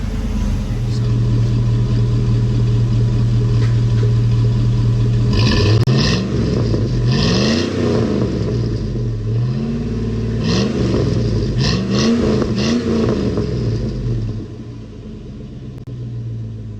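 A Chevrolet Suburban with a World Wide Performance cat-back exhaust idles with a deep steady rumble, then revs repeatedly in rising and falling surges before settling back to a lower drone, close and loud.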